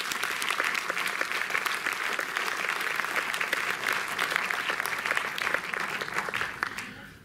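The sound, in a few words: audience applause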